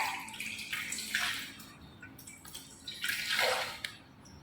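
Tap water running over hands during a rinse at a sink, a steady close splashing stream that swells and eases in uneven surges, with no talk.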